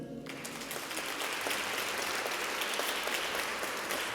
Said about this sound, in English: a big round of applause for Kaylin Ludvigsen.